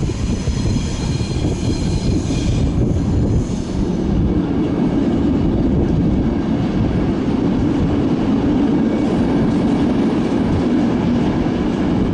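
Passenger train at Ghent St Peters station in Belgium, a loud, continuous rolling rumble of wheels on rail with faint high squeals, close and steady throughout, with no talking.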